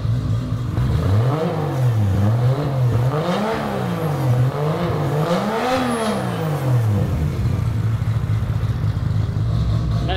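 An RB26-powered Datsun 240Z with a gutted titanium exhaust tip revs hard, engine pitch climbing and falling through several repeated blips before settling back to a steady idle, loud and close.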